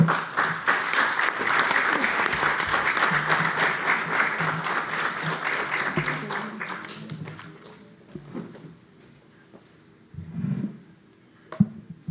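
Sustained audience applause at a panel session on gender perspective in Mexico City, dense and loud for about seven seconds, then tapering into scattered claps and light room noise.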